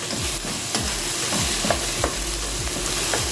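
Tomato salsa sautés in a pan while a utensil stirs it in regular scraping strokes over a continuous loud sizzle, with no speech.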